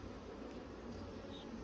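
Honey bees drone at an opened hive during mite strip removal, a faint, continuous buzzing with no pause.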